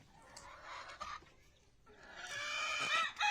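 Egyptian Fayoumi chickens cluck and squawk nearby in short irregular bursts, growing louder and busier toward the end.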